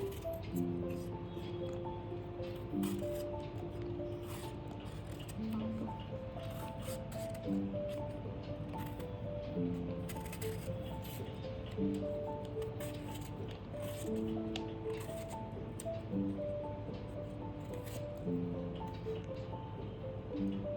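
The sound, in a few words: peeling the skin off raw sour mangoes with a knife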